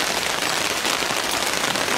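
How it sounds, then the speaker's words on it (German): Rain falls in a dense, steady hiss outdoors, close and even in loudness, with no voices. "Das liebe ich aber, wenn es regnet."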